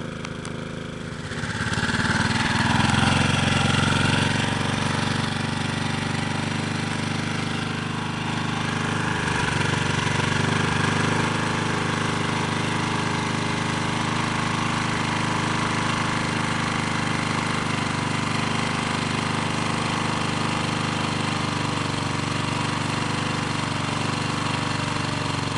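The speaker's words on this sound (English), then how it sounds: "It's burning really hot because it's burning really rich because we cannot control the amount of gas going in through the carburetor" A GEET slave engine running hot and rich through a carburetor with faulty needle valves, giving a loud, steady mechanical drone that holds constant throughout without talk.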